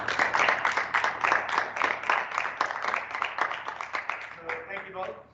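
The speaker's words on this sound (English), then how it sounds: "let's give our speakers a round of applause" Applause for the speakers at a lunchtime seminar comes as a brief, moderately close round of clapping from a modest audience that tapers off toward the end.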